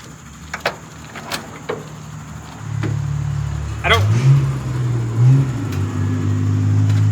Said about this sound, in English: That fuel pump comes right on with a battery.